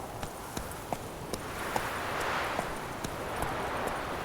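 The horse Roach from The Witcher 3 running, with regular hoof clip-clops over a soft wind-like background, fairly close and alone.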